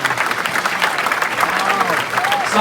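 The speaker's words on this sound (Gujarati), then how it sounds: "જોરદાર તાળીઓથી આપણે" An audience claps at the BAPS Clifton temple's Hari Jayanti celebration, producing a dense, steady round of applause from a large crowd.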